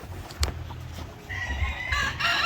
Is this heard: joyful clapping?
no